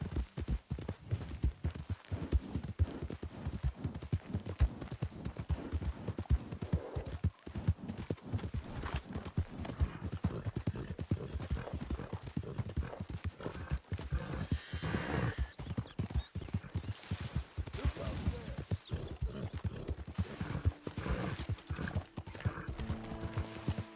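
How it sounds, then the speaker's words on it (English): A horse gallops hard in Red Dead Redemption 2, a dense, continuous drumming of hooves with whinnies mixed in, loud and close for the whole stretch. "No horses in camp, Arthur."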